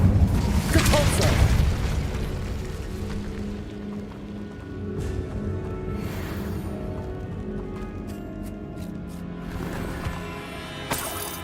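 Capulso blast spell in the video game Hogwarts Legacy: a loud booming burst up front that fades into a low rumbling tail, followed by quieter scattered impacts and a faint later whoosh.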